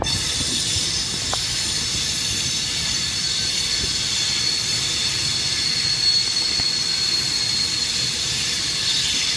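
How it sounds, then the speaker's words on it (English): A Class 153 diesel unit arrives off the Cumbrian coast line, its wheels squealing in a long high, steady whine over a low rumble of rolling stock, with no talk. "153 coming in off the Cumbrian coast."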